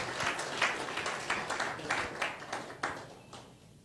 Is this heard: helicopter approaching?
no